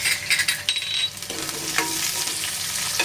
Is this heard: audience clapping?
no